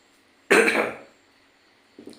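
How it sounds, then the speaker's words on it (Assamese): A single harsh cough or throat clearing, close and loud, lasting about half a second and trailing off, followed by a short fainter sound near the end against near silence. "অলপ কাহ হোৱাৰ যেন লাগিছে, গম পাইছেনে?"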